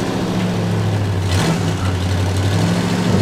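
A truck engine in the video game Human Fall Flat drones steadily and loudly, with a low idling hum that briefly shifts pitch midway as if revving, then settles back.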